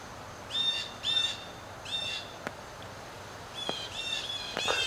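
Several unhappy birds close to the camera give repeated sharp chirping calls in short bursts, with a few clicks in between.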